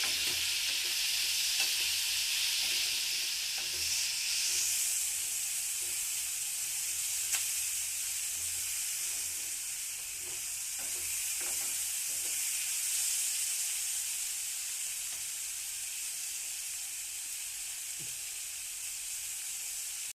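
Tomatoes sizzle steadily in a hot pan while occasional faint scrapes and taps of stirring come through.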